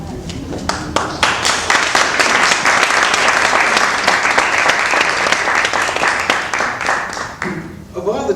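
Loud, dense applause and clapping from an audience at a musical tribute to Louis Armstrong, sustained for several seconds with crisp individual claps over a continuous roar and voices mixed in.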